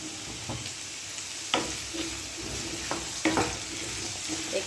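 Potatoes and papaya stirred and fried in a pan, with a steady sizzle broken by a few sharp spatula scrapes and clacks against the pan, close and moderately loud, with no voices.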